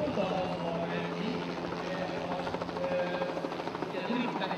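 A Bell 206B Jet Ranger helicopter flying sideways during an airshow display at Budaörs gives off a steady rotor and turbine drone from a distance, while a commentator talks over it throughout.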